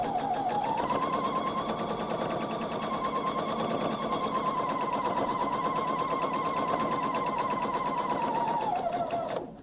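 A sewing machine runs one long continuous seam down the long side of a thread catcher, a steady fast whirring stitch held for about nine seconds before slowing to a stop at the end.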